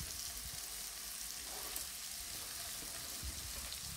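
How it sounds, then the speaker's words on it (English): Steady, crackling sizzle of onions frying in a pan at medium heat, continuous and close with no talking. "I hear that little sizzle"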